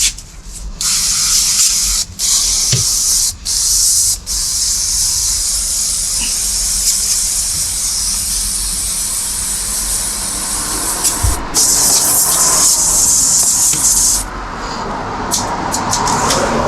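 Cleaner sprayed inside a Toyota Corolla during interior detailing: long loud close hissing spray bursts broken by brief pauses, with softer spritzes near the end.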